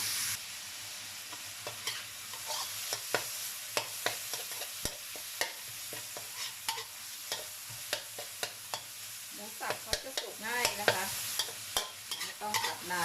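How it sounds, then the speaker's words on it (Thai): Minced pork stir-fries in a pan, a constant quiet sizzle broken by frequent scraping clicks of the spatula against the pan, close and unhurried, with no voices. "ผัดไปเรื่อยๆจนสุกนะคะ"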